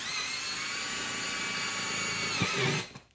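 A cordless power drill whirs steadily at close range while driving screws into an HVAC duct connection, then winds down and stops near the end.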